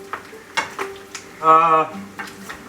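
Breakfast being stirred in a frying pan, with scattered scrapes and taps of a utensil against the pan over a low sizzle, and a brief, louder tonal squeal midway through.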